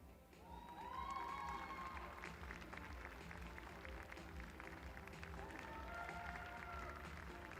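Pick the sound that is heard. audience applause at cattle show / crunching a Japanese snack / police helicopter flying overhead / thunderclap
audience applause at cattle show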